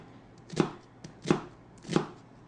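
A knife cuts an onion into planks in three evenly spaced, crisp chops, each a short thud on the board, close and clear with no talking.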